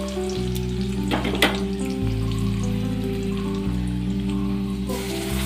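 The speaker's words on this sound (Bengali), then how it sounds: "পাতলা করে কেটে রাখা আলুটা আমি নুন আর হলুদ দিয়ে একটু ভালো লাল লাল করে সুন্দর করে ভেজে নেব" Thinly sliced potatoes with salt and turmeric fry in oil for a pomfret dish, making a continuous dense sizzle over a steady low hum, with a few brighter crackles.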